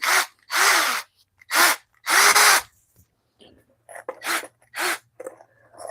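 A power drill whirs in repeated short bursts, rising and dropping in pitch as it drives screws, with brief pauses between pulls of the trigger.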